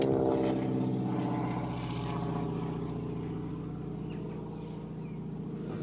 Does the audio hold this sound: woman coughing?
no